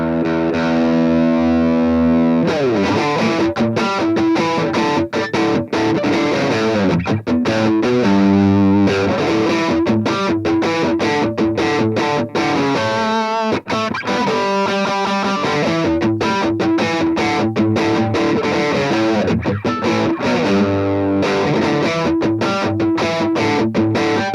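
Loud, saturated electric guitar through an Orange Rocker 32 tube amp with thick distortion, chords and riffs played continuously for the whole stretch, with no talking.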